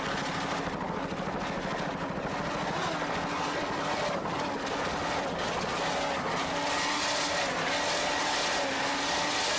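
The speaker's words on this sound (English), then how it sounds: "You can hear throttle man Herb Stotler there doing a fine job with those 900 horsepower Stotler engines" Loud, roaring 900-horsepower offshore powerboat racing engines at Fort Lauderdale run steadily throughout, a continuous dense drone with no pauses.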